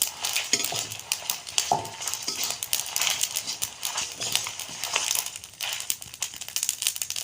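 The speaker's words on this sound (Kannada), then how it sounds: "ನೋಡಿ ಸಾಸಿವೆಲ್ಲ ಚೆಂದ ಸಿಡಿಲಿಕ್ಕೆ ಸ್ಟಾರ್ಟ್ ಆಯಿತು" Mustard seeds splutter and crackle in hot oil while a mango pickle is made, with dense, uneven popping and a few sharper snaps from nearby.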